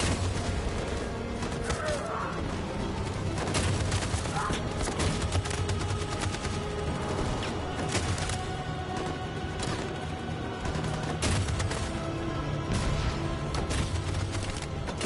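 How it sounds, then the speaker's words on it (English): Sustained machine gun fire rattles through a battle in the video game Detroit, a loud, steady barrage layered with crashes and shouting voices. "That machine gun is taking down everything that moves!"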